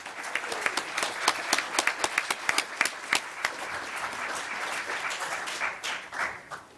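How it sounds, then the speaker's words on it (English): An audience at a League of Women Voters candidate forum gives a round of applause for five candidates, crisp and sustained clapping from many people at a steady level before tapering slightly. "how about a round of applause for these 5 candidates?"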